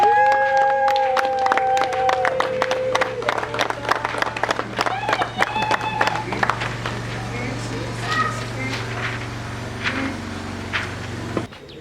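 Wedding guests at a civil wedding held at the bride's family residence break into applause for the couple's coaches, a sustained ripple of clapping from a nearby crowd, with someone speaking over the opening seconds.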